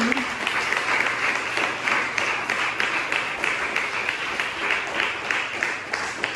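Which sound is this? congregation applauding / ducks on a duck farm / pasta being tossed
congregation applauding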